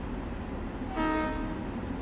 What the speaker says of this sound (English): Before stopping at each station, you should sound the horn once on approach.